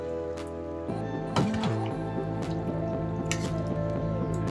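Chop suey with quail eggs stirred in a pan, with wet squishing and dripping sounds over a steady tonal hum and a few clicks of the utensil.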